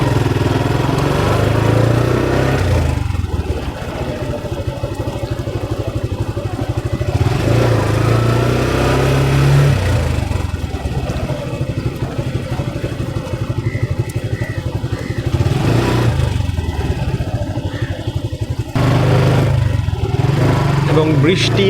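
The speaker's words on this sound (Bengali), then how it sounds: "সো এইভাবেই আসলে বাইক রাইড করতে হয়।" A motorcycle ridden on a road, its mid-pitched engine droning steadily with rises and dips in revs, loud and close, while a voice talks intermittently over it.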